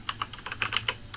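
Quick, light clicks of fingers typing on a computer keyboard, about a dozen close keystrokes in an uneven burst, fairly quiet with no voice.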